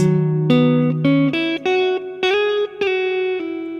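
Electric guitar plays a melodic phrase from a song, clean single notes and slides with sustained tones, close and alone with no talking.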